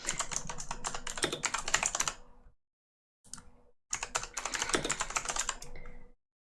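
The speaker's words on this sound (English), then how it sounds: "Yes, I have a clicky keyboard." A clicky computer keyboard rattles with fast keystrokes in two runs, broken by a short pause and a brief flurry, close-up and with no speech.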